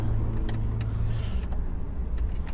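Cars pass around a corner near a UK HGV truck, a steady low engine rumble with a brief whooshing swell as one vehicle goes by.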